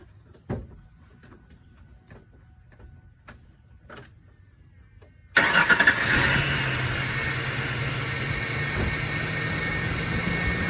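A Ford car engine starts after its throttle body was cleaned: a few faint clicks in a quiet workshop, then the engine fires abruptly and settles into a loud, steady idle that runs to the end.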